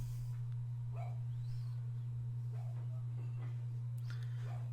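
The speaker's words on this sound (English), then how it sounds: "Sounds like our dog going kind of crazy now." A pet dog barks and yips several times in a scattered run, fairly faint and distant, over a steady low electrical hum indoors.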